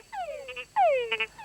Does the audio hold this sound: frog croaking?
yes